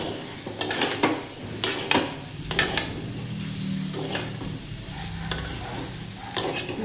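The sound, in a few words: sautéing potatoes in spices in a pan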